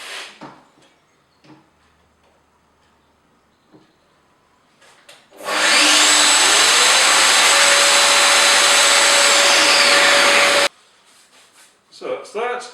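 A Festool Domino joiner cuts a mortise in wood, a loud steady motor whine with a plunge cut lasting about five seconds, framed by quieter handling clicks and knocks before and after.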